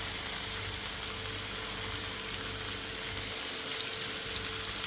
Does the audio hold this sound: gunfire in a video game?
no